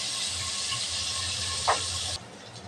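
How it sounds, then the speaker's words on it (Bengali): Large prawn pieces fry in a pan with a steady, loud hiss that cuts off abruptly after about two seconds. "মাছটা ভাজা হয়ে গেছে,"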